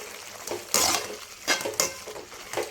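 A spoon scrapes and clanks against a metal pot several times as thick mutton fry with coconut is stirred, close and uneven, with a faint sizzle beneath.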